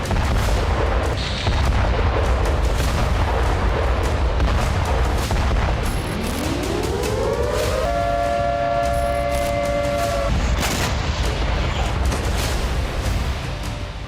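Blasts from a Russian attack on a Ukrainian ammunition depot make a dense, continuous rumbling roar, with a rising, siren-like wail swelling midway and holding steady before the roar carries on.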